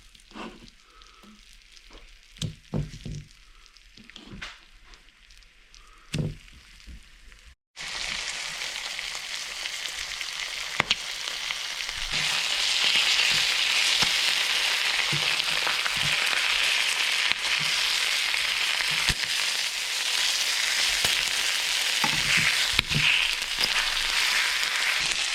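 Flour-dusted ormers (abalone) with a few seasonings frying in a pan, a steady loud sizzle that starts abruptly after some quiet handling clicks and continues unbroken, with no talking.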